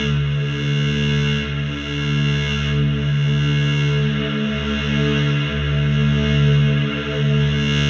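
Modular synth drone voice shaped by an AD-LFO and sent through reverb: a sustained, harmonically rich tone with a slowly pulsing low end and a lingering washy tail, played alone at steady volume.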